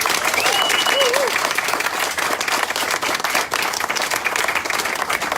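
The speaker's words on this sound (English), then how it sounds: "So let's give them a round of applause." An audience claps and applauds continuously at a medical clinic grand opening in Jackson, Tennessee, a steady, dense round of applause with a brief whoop or voice cutting through early on.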